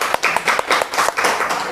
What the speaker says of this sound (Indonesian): Sekali lagi tepuk tangan buat pemateri kita.